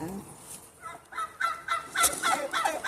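Farm fowl call in a short burst of honking, gobbling squawks, several overlapping cries from turkeys, hens and roosters at moderate distance, fairly quiet and close together.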